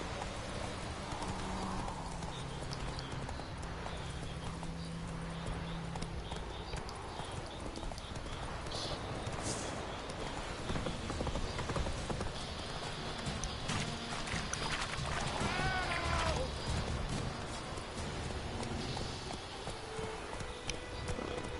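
Roach the horse in The Witcher video game trots with steady, rhythmic hoof clip-clops over a continuous bed of game ambience and music, with no talk.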